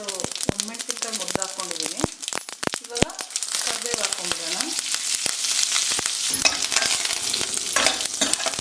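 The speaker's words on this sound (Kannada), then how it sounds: "ಎಣ್ಣೆ ಸ್ವಲ್ಪ ಬಿಸಿ ಆದಮೇಲೆ ಸಾಸಿವೆ ಹಾಕ್ಕೊಡೋಣ" Mustard seeds crackle and sputter in hot oil, a dense sizzle with sharp popping clicks that builds louder and steadier while someone speaks over it.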